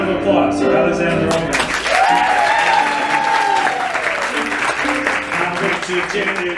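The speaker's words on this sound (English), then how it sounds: "Round of applause for Alexander" Audience applause and cheering in a theater during a live blues performance, loud and sustained throughout, with some voices and music mixed in beneath the clapping.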